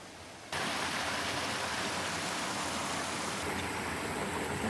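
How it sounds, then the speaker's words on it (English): A forest brook rushes in a steady, close, full wash of running water that starts abruptly and continues unbroken, with no voices. "Here's another view of this brook."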